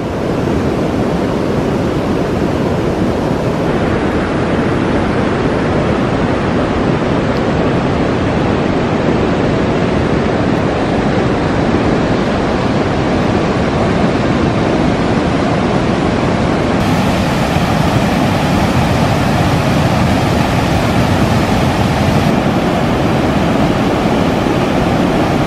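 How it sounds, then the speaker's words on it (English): Berry Creek in flood after heavy rains, water rushing in a loud, continuous broadband roar that holds steady for the whole stretch with no voices. "After heavy rains, Berry Creek is at a flood stage."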